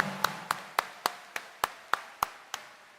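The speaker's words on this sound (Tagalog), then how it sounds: "Taas ang kamay at palakpak ng mas malakas sa Poong Nazareno" Devotees clap for the Poong Nazareno, the Black Nazarene, in about ten slow, evenly spaced, sharp claps, fairly close and with no talking.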